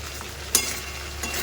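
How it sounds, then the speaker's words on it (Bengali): Meat fries in plenty of oil in a pan and is stirred quickly, a close, steady sizzle broken by one sharp scrape of the spoon, with no talk. "মাংস ভাজতে গেলে নিচে লেগে যায় এরকম করে তাড়াতাড়ি করে নাড়তে গেছি"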